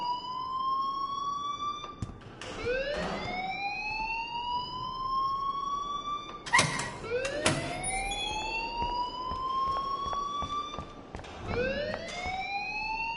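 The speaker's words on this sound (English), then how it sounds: "please turn off that alarm since that's your job." An alarm blares in the video game Life is Strange, a loud electronic siren wailing in repeated rising sweeps that restart every few seconds, with no voices over it.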